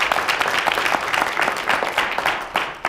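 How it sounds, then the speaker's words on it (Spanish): A church congregation bursts into steady, full applause during a sermon, with the clapping continuing evenly for the short stretch. "Den un fuerte aplauso al Señor por eso."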